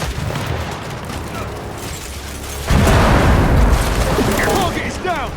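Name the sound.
frag grenade explosion in video game Gears 5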